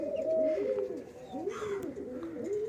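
Pigeons cooing in a loft of high-flyer birds, several overlapping throaty coos repeating in a steady rhythm, close and moderately loud, with faint rustling behind.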